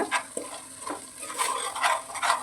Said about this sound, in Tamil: நல்லா இப்போ மிக்ஸ் பண்ணிக்கோங்க